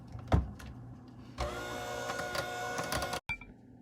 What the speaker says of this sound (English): Yep, we just finished mixing all the wet and dry ingredients together.